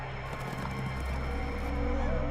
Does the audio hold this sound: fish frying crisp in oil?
no